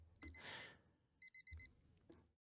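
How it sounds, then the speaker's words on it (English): An alarm clock rings in the video game Tennis Ace, short bursts of bright electronic beeping in a quick pattern, fairly faint, mixed with a few soft thumps. "My mind is violently snapped back into wakefulness by the sudden blaring noise of the alarm."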